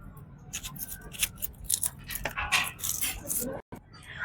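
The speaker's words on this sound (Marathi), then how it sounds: "आता हे 2 कांदे मस्त मी बारीक बारीक कापून घेतो" A knife finely chops two onions on a cutting board, giving quick, irregular clicks and taps close up, with a brief pause near the end.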